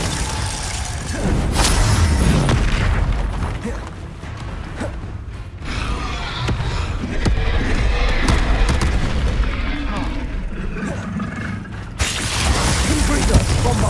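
Spell explosions from Confringo and Bombarda in Hogwarts Legacy, a dense run of booms and crackling blasts with mechanical clatter through most of the stretch, loud and busy, easing briefly twice before flaring again.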